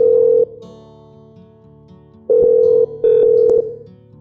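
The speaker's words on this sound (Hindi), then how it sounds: "तो चलिए फोन मिलाते हैं शिल्पा जी को" A telephone ringback or dial tone sounds as a steady electronic tone in several long bursts with gaps between them, placing a call during a Hindi radio show.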